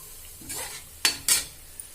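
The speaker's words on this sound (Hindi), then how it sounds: "ये मैंने दोबारा तेल में डाला है थोड़ा क्रिस्पी होने के लिए" Bari, lentil dumplings, put back into hot oil to crisp, giving a soft sizzle with a couple of sharp clinks of a utensil against the pan; short and fairly quiet, no talking.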